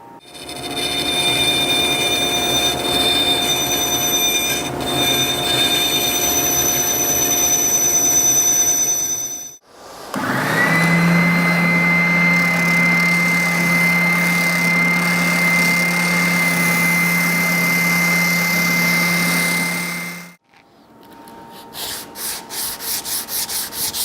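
A bandsaw cuts curved wooden drawer sides for a chest of drawers: two long, loud passes of steady whining, rasping cutting, each about ten seconds, with a brief quiet gap between them and the motor spinning down at the end.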